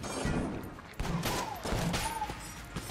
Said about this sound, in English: Keep using the pulse cannon and the judge.